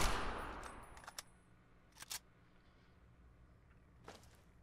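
Gunfire in the video game Fallout 3: a faint, sparse scatter of short sharp shots, a quick pair and a few single reports, with quiet gaps between them.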